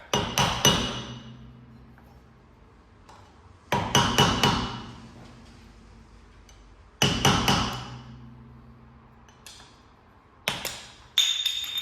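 A VW Polo rear wheel bearing centre cap is knocked off in four sharp, ringing metallic strikes a few seconds apart, each decaying slowly, close and loud with no talking.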